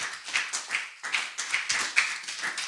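A congregation at a church service claps to acclaim the Lord, a brisk uneven run of hand claps from a modest group, close and clear with no talking.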